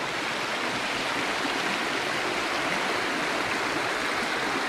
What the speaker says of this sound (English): The water seems to have picked up a fair lick of speed